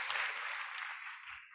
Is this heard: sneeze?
no